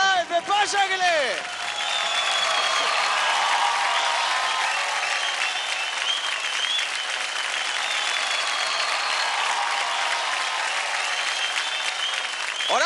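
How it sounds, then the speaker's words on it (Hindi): A studio audience at a televised dance competition breaks into loud, sustained applause that swells from a brief burst of voices into a dense, continuous wash of clapping lasting many seconds. "जोरदार ताली हो जाए"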